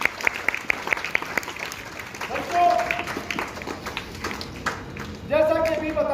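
Students at a school Ambedkar Jayanti event applaud in a steady wave of hand clapping that swells near the end, with a voice speaking over it.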